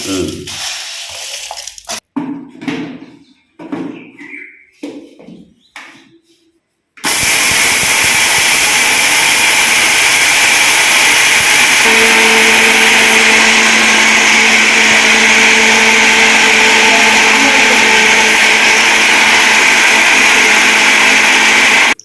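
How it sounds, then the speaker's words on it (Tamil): A kitchen mixer grinder whirs loudly and steadily as it grinds lentils into powder, running continuously for about fifteen seconds after a few short bursts of speech. "மிக்சியில் போட்டு அரைச்சி ஜலிச்சு விட்டோம் மாதிரி போடுங்க"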